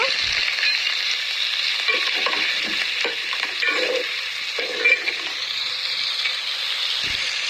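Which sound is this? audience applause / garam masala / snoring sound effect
garam masala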